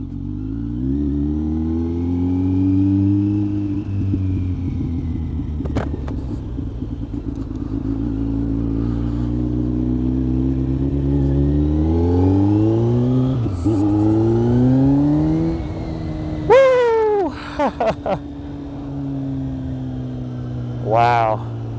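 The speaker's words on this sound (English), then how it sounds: "This is just a slip-on exhaust." A Kawasaki Z900 with a Leo Vince GP Corsa slip-on exhaust drones and revs up and down, rising and falling in pitch, with a few sharp throttle blips near the end.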